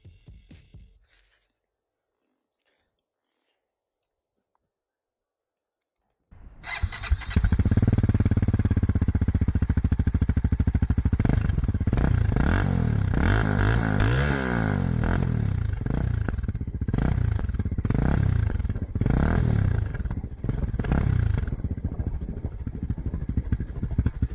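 After several seconds of near silence, a Voge 300 Rally 2024 small trail motorcycle engine fires up by push-button start and keeps running close by, idling with uneven revs and rattling mechanical clatter.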